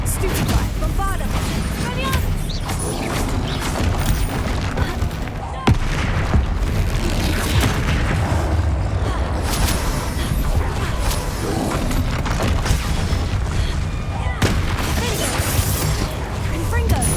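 Bombarda blasting spells explode during a boss fight in the Hogwarts Legacy video game, with repeated loud booms and crackling bursts over continuous battle noise and music.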